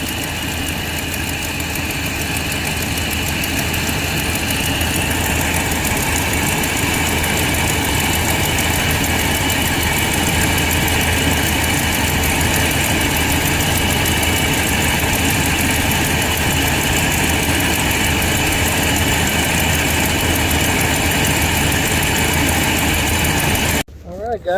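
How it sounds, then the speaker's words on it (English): A 454 big block engine in a Winnebago, fitted with an Edelbrock intake, idles smoothly and loudly up close with a steady, even rumble that runs nearly unbroken before cutting off at the end. "Thing idle's really nice."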